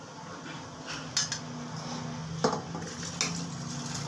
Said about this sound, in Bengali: এবার আমি দিয়ে দিচ্ছি চাল।